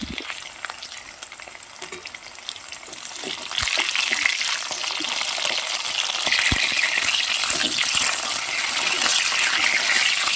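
Dragon chicken pieces fry in hot oil with a loud, continuous close sizzle that swells as more pieces go in, with occasional clinks and stirring.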